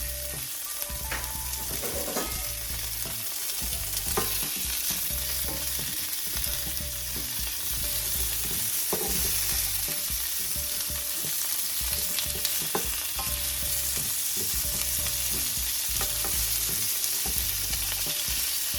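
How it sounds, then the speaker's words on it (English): Trimmed, cut and washed asparagus fries in a pan with a continuous close sizzle, broken by repeated scraping and stirring strokes throughout, with no voices. "So you want to take your trimmed, cut and washed asparagus, and we're going to put it in the pan."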